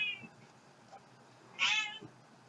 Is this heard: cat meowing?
yes